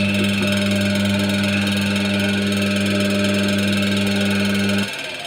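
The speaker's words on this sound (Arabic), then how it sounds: "الموتور بيلف شمال، يعني بيلف بالشكل ده كده" A washing machine motor, taken apart for new bearings and conversion into a grinder, runs with a steady close electric hum and whir, then cuts off abruptly near the end.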